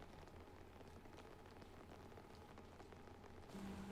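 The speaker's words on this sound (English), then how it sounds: "Just the pitter-patter of rain" Steady rain patters on surfaces in a rainy night scene from Batman: The Telltale Series, a soft, even hiss of drops that continues without a break and without any voices.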